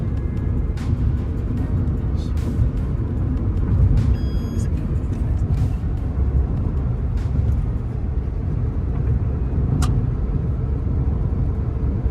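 Car cruising along the Dholera airport runway strip in Gujarat, a constant loud low road and engine rumble with a few brief clicks and ticks over it, no clear speech.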